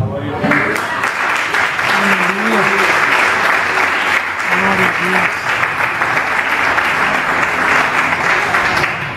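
A church congregation breaks into loud, continuous clapping for several seconds, with voices and cheers mixed into the applause.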